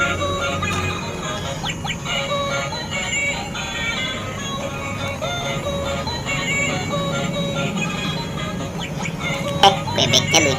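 A spinning toy duck gives out a busy, continuous run of electronic quacks and a jingly tune at a fairly loud level throughout, with no talking.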